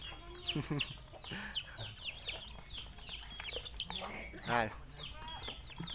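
Chickens clucking and squawking nearby in a busy flock, with a rooster-like call rising briefly and a voice faintly mixed in.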